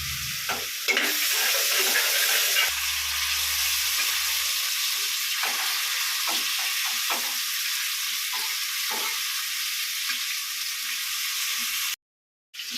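Fish frying in a pan, with a steady broadband sizzle and repeated light scrapes of a turner over about twelve seconds, near and even in level, cutting out briefly at the end; no talking.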